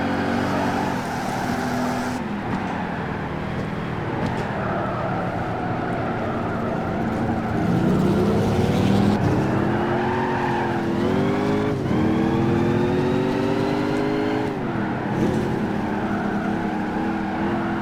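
Racing car engines in Gran Turismo 5 roar loud and continuously, with revs climbing and dropping through gear shifts and a brief tire squeal, with no talking.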